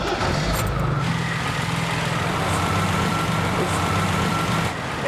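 A classic car engine idles steadily with a low, even rumble throughout, close by and fairly loud, with no voices.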